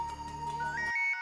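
A phone ringtone plays a short electronic melody of rising tones over steady accompaniment, then cuts off near the end, fairly loud and close.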